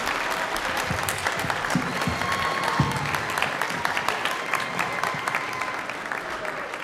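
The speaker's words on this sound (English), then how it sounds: "Round of applause for those teammates." An audience at a school Fine Arts Week event gives a sustained round of applause, steady crowd clapping with scattered voices and cheers mixed in.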